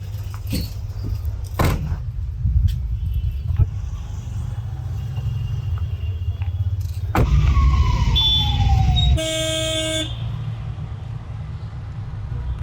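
An ambulance in India drives with its siren on. A wailing tone sweeps downward and then cuts to a short, sharp blast, all over a steady low engine and road rumble.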